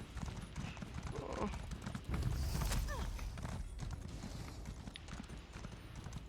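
Horse hooves clip-clop steadily in Elder Scrolls Online while riding through Northern Elsweyr, a quick rhythmic trot close up against a busy game soundscape with other effects mixed in.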